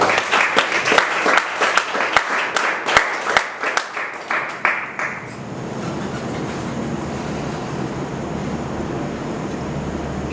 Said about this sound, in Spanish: Denle un aplauso a Él.